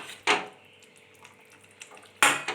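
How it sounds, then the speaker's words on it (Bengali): Metal pot lid lifted while rohu fish curry with potatoes cooks, two sharp clanks, one early and one near the end, with faint kitchen clatter between them. "এবার ঢাকাটা তুলবো, দেখবো আলুগুলো সেদ্ধ হয়েছে কিনা।"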